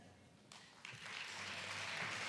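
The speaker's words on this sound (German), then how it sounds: "Applaus" Applause at a Green party state delegate conference in North Rhine-Westphalia, rising after about a second into steady, moderately loud clapping from a sizable hall audience.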